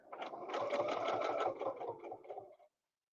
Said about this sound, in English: I'm going to do 1/4 inch stitching away from everything